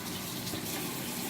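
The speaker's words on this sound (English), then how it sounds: "dump things into the sink using lots of water" Water from a tap pours steadily and loudly into a sink while diluted chemistry-lab solution is rinsed away during cleanup, an even close rush without a break.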